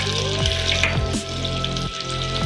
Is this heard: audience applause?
no